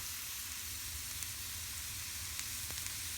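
Mushroom slices frying in olive oil in a pan, a steady, fairly quiet sizzle with a broad hiss and a low background hum, running without a break and with no talking.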